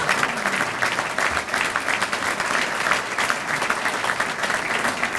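An audience at a Chicago Park District address breaks into steady applause, a dense even wash of clapping that holds at a constant level across the whole stretch.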